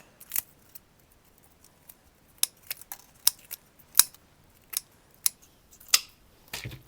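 Scissors snip through orchid roots in a string of about ten sharp, close, crisp cuts at irregular intervals, with quiet gaps between them.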